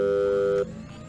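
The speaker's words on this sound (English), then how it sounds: "That's not the same phone ring I got before." A phone in a video game sounds a loud, sustained electronic ring tone that cuts off sharply after about half a second, leaving a quieter background hum.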